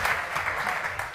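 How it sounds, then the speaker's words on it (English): Audience applause after a talk on digital transformation, a dense steady wash of clapping from a crowd, close and fairly loud, without speech over it. "Let's give them another round of applause"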